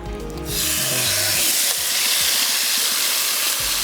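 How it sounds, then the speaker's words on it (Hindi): Raw chicken lands in a hot pan and sets off a loud, steady sizzle and hiss that rises sharply and keeps going close up, with faint low clatter under it. "ये अब हम डाल देते हैं चिकन"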